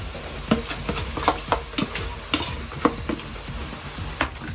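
Chili, turmeric, fenugreek and asafoetida powders roasting in hot oil for a Kerala village-style lemon pickle, with a steady close sizzle broken by repeated scraping stirs at an irregular rhythm.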